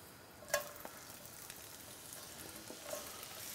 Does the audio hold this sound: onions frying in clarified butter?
yes